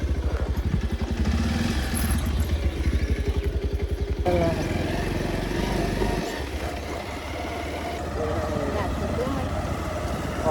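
A motorbike engine runs close by on a farm outing, a steady pulsing throb that shifts in tone partway through as the ride goes on, with people talking over it.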